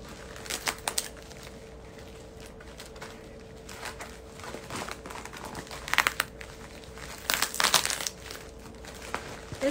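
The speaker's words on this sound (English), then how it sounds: "Just cut it up." Crinkly plastic mail package being cut open with scissors, giving soft intermittent crumpling and snipping that bursts louder near the end, with no talking.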